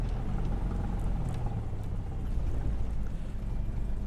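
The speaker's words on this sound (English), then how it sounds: "You can hear the buzz of the flaps coming down there." A faint electric motor buzz from a Cessna 172's flaps lowering hums steadily beneath a continuous low engine rumble in a flight simulator game.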